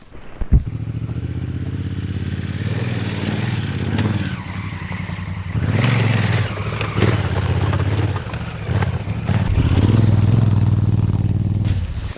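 A 2024 Honda Africa Twin with DCT transmission rides along a trail, its engine droning loud and close with rising and falling revs and some clatter throughout.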